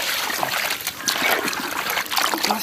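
Cold water is poured into a pot of village-style mutton chukka curry while it is stirred: a close trickling and splashing of liquid in uneven bursts, with a faint clatter of the spoon.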